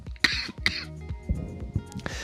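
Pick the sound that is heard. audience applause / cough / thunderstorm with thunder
cough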